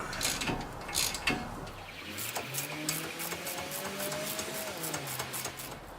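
Bolts being tightened on the suspension of a 2004-2008 Nissan Murano during control arm, tie rod, spindle and brake work, heard as repeated mechanical ratcheting and clicking bursts close up.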